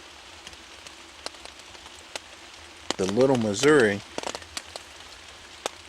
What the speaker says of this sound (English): It is 11 o'clock and the rain is really coming down.